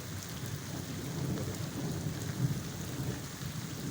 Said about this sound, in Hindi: बहुत तेज़ बारिश हो रही है यहाँ पर।